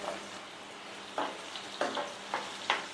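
Cucumber pieces frying in oil in a pan for a pickle, a soft continuous sizzle with a few sharper crackling bursts spaced through it, fairly quiet and with no talk.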